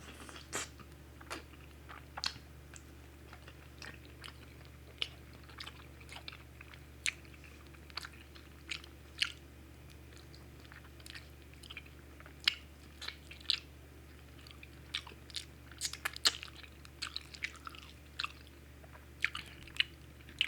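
Close, quiet chewing with soft wet smacks and occasional crunchy bites comes from someone eating balbacua stew with rice, irregular and steady throughout with no talking.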